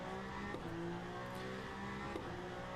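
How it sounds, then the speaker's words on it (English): Peugeot race car engine in Le Mans Ultimate at Portimão, a sustained buzzing engine note with shifting pitch and a couple of brief sharp transients, steady and moderately quiet, with no talk. "I will first turn off my game audio so you can hear the Peugeot now."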